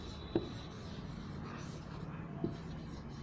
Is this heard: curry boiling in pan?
no